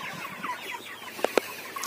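Broiler chickens, 37 days old, in a winter poultry shed, clucking softly in a low continuous murmur, with two short, sharper calls standing out near the end.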